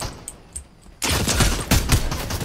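Fortnite gunfire breaks out after a second of near quiet with faint clicks, then a loud, dense volley of rapid shots and impacts continues to the end.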